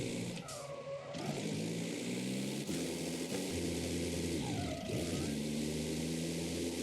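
Small truck engine revving hard while attempting to drift, a loud rough engine roar rising and falling in pitch through two sweeping revs, with wind-like noise over it.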